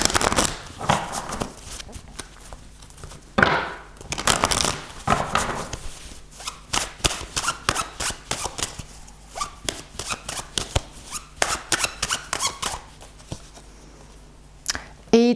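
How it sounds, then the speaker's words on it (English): A tarot deck is shuffled and cards are drawn, giving crisp riffles, flicks and sharp snapping taps in quick irregular bursts throughout, close up. "I'm going to keep those cards in and draw more advice cards"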